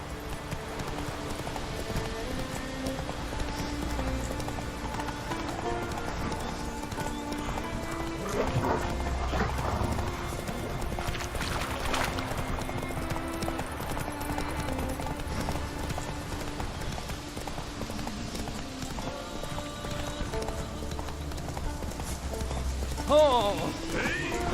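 Roach the horse gallops in The Witcher 3 with steady rhythmic hoofbeats and occasional snorts, heard under game music and speech throughout.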